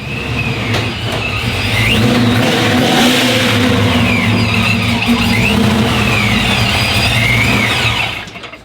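A Procharged 6.2-litre V8 in a C10 squarebody pickup revs hard and loud up close, the supercharger whine rising and falling through repeated throttle blips before the engine drops back near the end.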